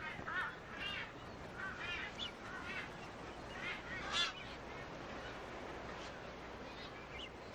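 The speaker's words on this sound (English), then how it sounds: "These are marsh boobies." A dense colony of marsh boobies calling on a sparse, dry seabird island, a continuous chorus of overlapping honking and cawing cries with a few louder calls standing out, busy and loud throughout.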